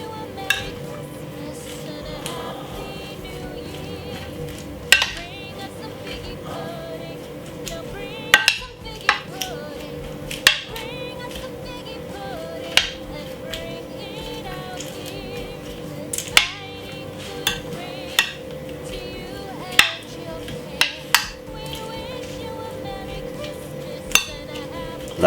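A spoon clinks and scrapes against a bowl while iceberg lettuce salad with sun-dried tomato and olive is stirred and tossed, giving repeated sharp chinks over a soft rustling bed, close and moderately loud.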